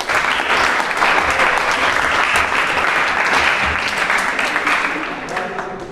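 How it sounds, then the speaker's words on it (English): Students and teachers at a school event clap their hands together, a loud, sustained burst of group applause with voices mixed in, tapering off toward the end. "Clap."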